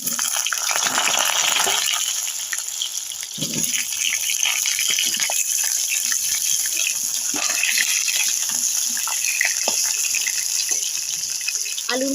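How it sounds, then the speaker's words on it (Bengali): Potatoes fry in hot mustard oil in a wok, giving a steady sizzling hiss throughout with occasional stirring clinks and scrapes. "এবার আমি আলুটা ভেজে নেব।"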